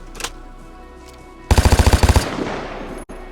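A light machine gun in the game Vigor fires one short, loud burst of about ten rapid shots, then its echo fades. A faint bump is heard before the burst and a brief drop-out comes after it, with no one talking.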